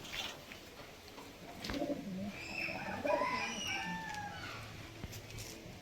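A male Madrasi pigeon coos at a loft kept for sale, a few drawn-out rolling coos close and moderately quiet, with faint background bird calls and a low murmur of nearby voices.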